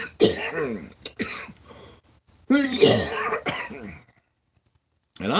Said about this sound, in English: I'm going to apologize right up front for my coughing